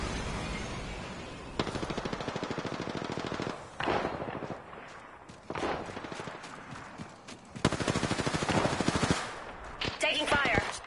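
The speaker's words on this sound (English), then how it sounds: "They're firing on me." Bursts of automatic gunfire aimed at the player in the battle-royale shooter Apex Legends, several loud rapid volleys separated by brief pauses, with faint in-game voice chatter.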